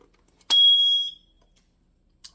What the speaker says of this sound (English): It gives me an alarm saying that, hey, something's working here.